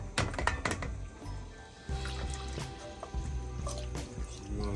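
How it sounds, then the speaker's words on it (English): Seafood soup broth with shrimp shells simmering in a pot, giving a quiet, steady bubbling with small irregular pops and drips close by, no voices. "We're gonna let this boil for a while."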